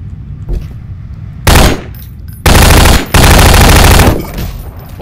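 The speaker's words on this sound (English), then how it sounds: "The SMG can kill you pretty fast." Submachine gun fire in Garry's Mod, arriving as three loud sustained bursts of rapid automatic shots separated by short pauses, with quieter game ambience between them.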